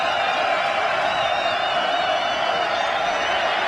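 Stadium crowd at a 2012 Miami Hurricanes vs. Georgia Tech college football game: a sustained, even roar of many distant voices with faint whoops, forming a dense wall of noise throughout.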